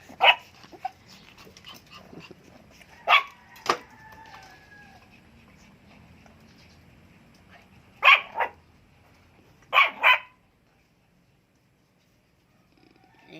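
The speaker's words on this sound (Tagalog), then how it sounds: "Ano problema mo? Kahol ka ng kahol." Small young miniature puppies, eager to get out of their den, let out loud, close, high yips in scattered pairs and singles over a soft background of rustling and whimpering. The sounds fade to near silence at the end.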